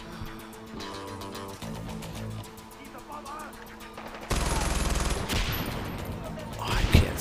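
A mounted gun fires in the Far Cry 4 video game. A loud, rapid burst of automatic fire starts midway and cuts through the quieter game ambience and music before it.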